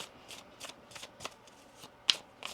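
Tarot cards are riffled and shuffled in a quiet, close series of crisp flutters and snaps, several short bursts spaced with brief pauses.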